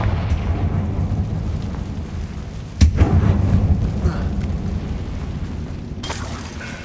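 A Confringo fire spell blasts inside a tomb-like mine in Hogwarts Legacy. One sharp, booming explosion bursts out midway through and rumbles over a low, murky game ambience.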